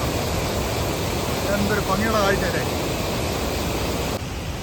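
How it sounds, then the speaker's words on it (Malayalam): A river spilling over a small waterfall among trees in the Idukki hills, a steady broad rush of water filling the background while someone briefly speaks over it. "ആ പുഴ ഒഴുകുന്ന കാഴ്ച"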